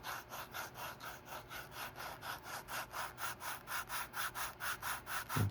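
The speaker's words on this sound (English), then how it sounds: "take a 220 piece of sandpaper and just kind of go back and forth" A 220 grit sandpaper rubs back and forth across a leather edge in a steady, even rhythm of soft, close scratchy strokes, about three strokes a second, with no talk.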